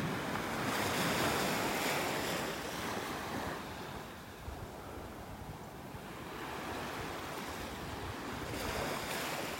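Surf rolls onto a beach in North Naples, Florida, broad steady washing roars that swell and ease in slow surges, mixed with wind buffeting the microphone, with no voices.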